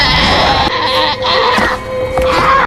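A goat brought for a horror-film ritual bleats loudly and repeatedly in wavering cries, close and continuous across a few seconds.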